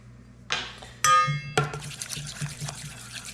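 Marinade pours into a pan with a splash and clink, then gets stirred with a run of liquid sloshes and light metallic taps; no one speaks.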